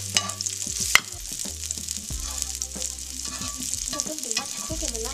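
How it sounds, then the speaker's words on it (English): Onions sizzle and fry while grilled in a pan for lamb chops masala, a steady crackling hiss broken by stirring clatter and a sharp utensil knock near the start, close and fairly loud. "So we just want to grill some of the onions."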